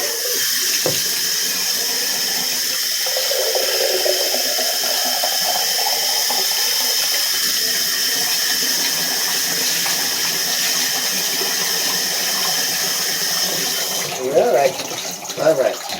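Tap water runs and drains steadily during a dog's bath, a continuous hiss and gurgle close by, with voices talking over it and a sharper splashing burst near the end.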